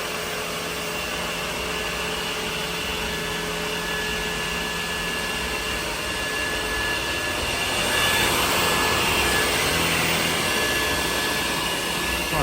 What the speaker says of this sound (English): it sounds just like the Dysons, the cordless ones.